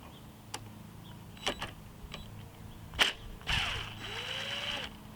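Sharp metallic clicks and short ratcheting bursts from a ratchet with a 1/4 inch socket working on a small Briggs and Stratton 6.75 hp Quantum engine, scattered and close in a quiet space, with no talking.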